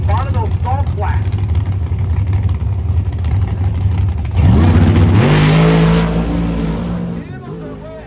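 A drag-racing car's engine drones loudly at first, then roars up sharply as it accelerates down the strip before fading, with a voice talking over it.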